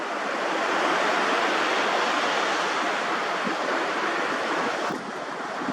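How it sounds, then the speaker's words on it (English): Ocean waves roll up onto the shore at sunrise in a steady, broad wash of surf, with wind mixed in. The sound holds at an even level with no talking, then eases slightly near the end. "I could see the waves coming up."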